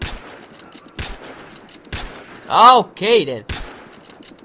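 Gunfire in the multiplayer shooter Battlefield Hardline on PS4, with several sharp single shots at regular intervals and a short volley, while a player speaks briefly over them.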